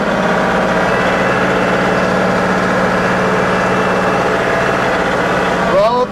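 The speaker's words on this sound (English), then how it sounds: "I love this tractor." A John Deere 2038R compact tractor engine runs steadily while plowing snow in a blizzard, a loud continuous drone with a low rumble that holds throughout, and a brief rise near the end.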